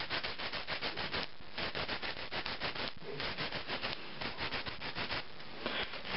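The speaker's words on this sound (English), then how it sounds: "that is all the filing that I need to do" A nail file rasps back and forth over acrylic nails to shorten them, producing quick, rhythmic scratchy strokes that are close and continuous, with brief pauses between passes.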